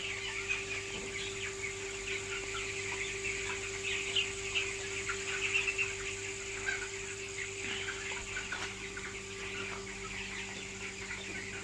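Chickens cluck steadily inside a poultry farm shed fitted with automatic water, feed and fogger systems. Their calls are soft and overlapping over a constant machine hum, with no talking.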